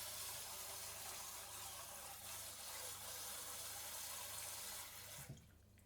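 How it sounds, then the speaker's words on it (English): Water runs steadily from a tap into a bowl of skinned edamame beans, a continuous close splashing rush that cuts off near the end. "you can pour a bit more water in"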